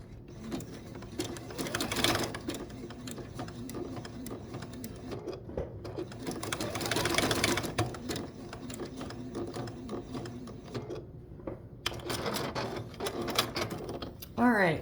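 Juki sewing machine stitching a brush roll made from a vintage quilt, a close, rapid mechanical rattle that runs in bursts with brief pauses, a voice talking over parts of it.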